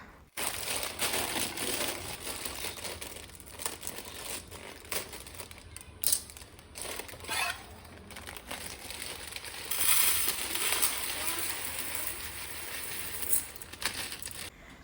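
Crinkling and crackling plastic packaging of roasted vermicelli and sugar being handled and torn open up close, a steady rustle with sharper crackles throughout, no voices.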